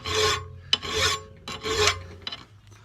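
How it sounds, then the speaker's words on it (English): Hand file rasping at an angle across the shoulders of a sword blade, shaped for a curved guard; three long, close, steady strokes with short gaps between them, no talk. "So I'm just going to file kind of at an angle."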